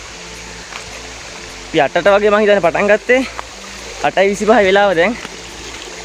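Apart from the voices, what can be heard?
small stream flowing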